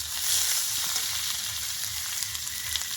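Chopped onion fries in hot oil in a kadai along with whole dried chillies and cumin, giving a steady, close sizzle with a slight swell at the start and occasional faint stirring sounds.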